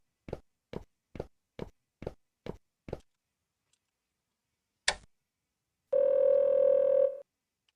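An office telephone sounds a series of seven evenly spaced clicks as the number is dialed, then a sharp short burst, followed by a steady tone held for about a second, with no talking.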